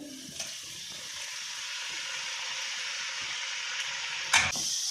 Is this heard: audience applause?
no